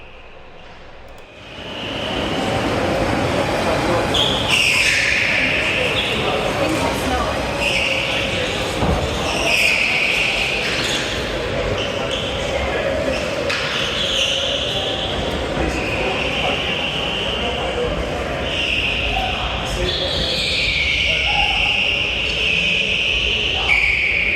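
Electric go-karts racing at the Teamsport Bournemouth track, a steady whine of motors with repeated rising and falling high-pitched tones and tyre squeals as karts pass, loud and continuous.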